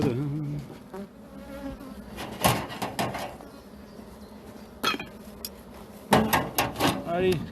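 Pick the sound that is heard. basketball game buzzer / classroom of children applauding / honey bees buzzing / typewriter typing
honey bees buzzing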